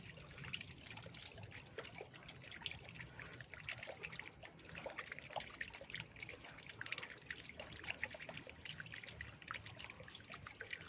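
Water trickles and splashes continuously as a filter is backwashed and rinsed, a steady close gurgling flow without pauses, fairly quiet throughout.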